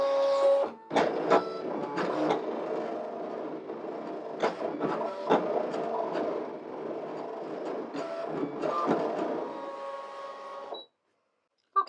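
A Brother ScanNCut machine cuts quilt batting with a busy mechanical whir and rapid clicking motor steps. The sound runs evenly for about ten seconds, then stops abruptly, followed by silence and a brief click.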